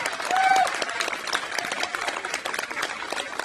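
An audience at an outdoor Pride and transgender flag-raising ceremony claps steadily for a speaker, a dense, moderate wash of applause that holds throughout.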